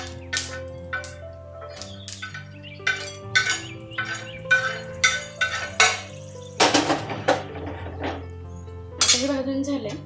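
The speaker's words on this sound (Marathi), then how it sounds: "आता आपण याला खाली डिशमध्ये काढून घेऊ. डिशमध्ये काढून घेते आता." Utensils clink and scrape against a dish while roasted eggplant for masala vangi is moved into it: a run of sharp metallic taps and clatters, close and fairly quiet, with soft background hum.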